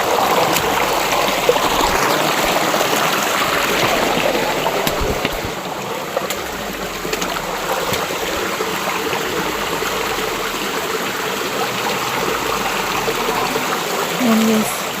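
Creek water streams and trickles steadily through the whole stretch, a broad, constant rushing with no break, close by and fairly loud.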